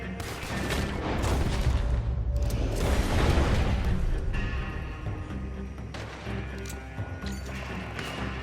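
An oil wagon blows up in Red Dead Redemption 2 amid a gunfight, heavy booming blasts and crashing debris rolling out over several seconds, followed by scattered distant shots.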